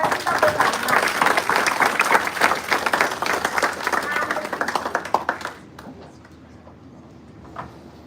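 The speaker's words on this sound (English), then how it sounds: "Let us all give a warm round of applause to welcome Dr. Aprajita Prasad." An audience at the Global Institute of Technology & Management, Gurgaon, claps loudly to welcome a speaker. Dense, sustained applause fills the room for about five seconds, then stops abruptly, leaving a quiet hall with faint stray sounds.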